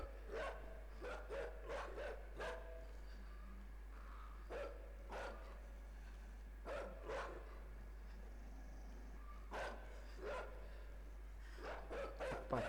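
Dogs in the video game INSIDE bark in repeated sharp bursts, spaced irregularly across the stretch over a steady low hum, with no talking.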